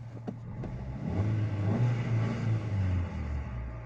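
A 2012 Kia Picanto engine runs steadily just after starting, a low even hum close by that swells slightly partway through, with no one talking.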